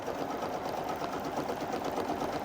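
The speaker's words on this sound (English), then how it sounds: "I'm just ready to go ahead and sew my basting box." An embroidery machine stitches a basting box around the hoop for an Enchanted Pumpkin leaves design, giving a steady, fast mechanical whir with rapid needle chatter that runs continuously at close range, with no talking over it.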